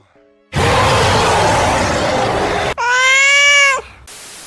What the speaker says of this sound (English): Cat yawn.